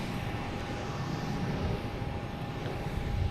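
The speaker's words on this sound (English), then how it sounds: "There's a JetBlue coming from Nassau. A321." A JetBlue Airbus A321 arriving from Nassau gives a steady, broad jet roar with a faint high whine running through it, constant and fairly loud, with no talking.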